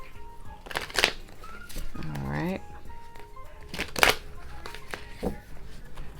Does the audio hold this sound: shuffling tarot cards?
yes